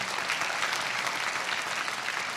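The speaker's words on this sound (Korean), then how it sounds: "우리 서로에게 격려의 박수를 한번 하도록 하겠습니다" A church congregation at a young adults' service applauds one another, a thick, even wash of clapping that stays loud and uninterrupted from start to finish.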